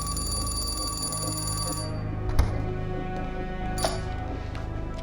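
A telephone rings for about two seconds over a loud, steady background of music and hum, then stops. Two sharp clicks follow, the first near 2.4 seconds and another near 3.8 seconds.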